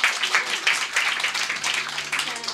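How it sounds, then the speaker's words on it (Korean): A church congregation claps for a children's Thanksgiving recitation, close, moderately loud applause with distinct individual claps pulsing in an uneven rhythm throughout. "힘차게 박수 부탁드리고 있습니다."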